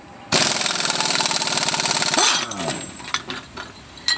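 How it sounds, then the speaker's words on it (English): A car front wheel bearing forced out of the axle with a bearing tool and wrenches, as a loud rapid rattling hammer of an impact tool runs about two seconds, then clanks and metal clinks. "You put a wrench on each end, and it forces it out."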